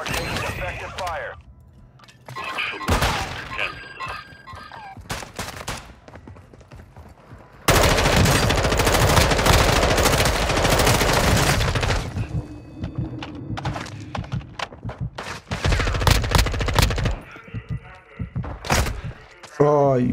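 Video game gunfire in Building 21, loud bursts of automatic fire and single shots, with a long dense stretch of sustained shooting, mixed with players talking over it.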